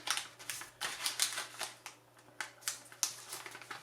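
Origami paper being folded into a Kermit the Frog model, close crisp crinkles and rustles in quick irregular bursts, with no talking.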